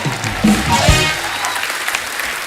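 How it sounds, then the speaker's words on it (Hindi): An audience breaks into loud, sustained applause, a dense wash of clapping that holds steady and then begins to fade slightly. "जोरदार तालियां हो जाएं हमारे चारों धुरंधरों के लिए।"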